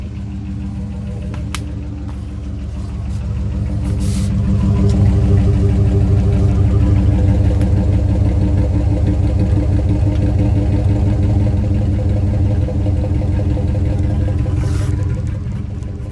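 A 2003 Dodge Ram engine with a new 2.5-inch and 3-inch tailpipe exhaust setup rumbles loudly and close, swelling a few seconds in and then holding a deep, steady idle throb.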